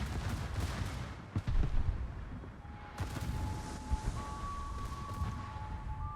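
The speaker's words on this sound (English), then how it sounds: "Salvos like that are frustrating" Battleship salvo fire in World of Warships, deep heavy booms in a cluster with rumbling blasts and a lingering low roar, loud and near, followed by a steady tone.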